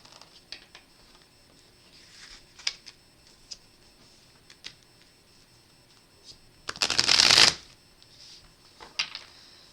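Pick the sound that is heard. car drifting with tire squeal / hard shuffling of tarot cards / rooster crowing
hard shuffling of tarot cards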